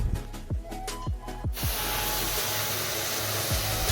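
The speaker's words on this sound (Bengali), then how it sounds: "এরপর সুজির উপর দুধটা দিয়ে দিলাম।" Milk poured onto semolina that has been lightly fried on a low flame in a hot pan sets off a sudden loud, steady hiss that holds at full strength, following a few soft clinks of utensils.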